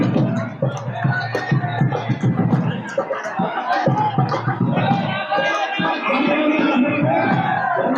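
Dense crowd of pilgrims at Rangji temple in Vrindavan, a steady loud wash of many overlapping voices, chatter and calls filling the whole stretch without pause.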